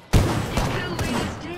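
A loud burst of video game gunfire from a 30-30 repeater match opens sharply, followed by booming shots and rattling impacts, with a voice talking over it.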